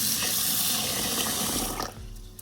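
Rice washed in a sink for egg fried rice, with running tap water splashing and churning steadily close by before it eases off near the end, and no voices.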